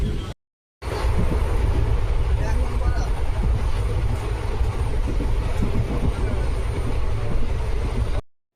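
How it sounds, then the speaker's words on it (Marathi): A passenger train moving along the rails gives a loud, continuous rumble with rhythmic clatter, heard close from on board after a brief silence and fading out at the very end. "तर पब्लिक आता ट्रेन निघल्या फायनली."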